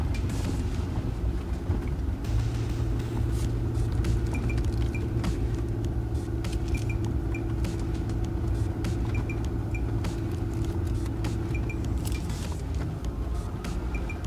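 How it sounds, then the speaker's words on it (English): A 2020 Jeep Gladiator engine chugging along in four-wheel low range through deep snow in mountains: a steady, low rumbling drone inside the cab with soft rattles and faint periodic chimes, constant throughout. "So we're in four-wheel low range, just kind of chugging along here."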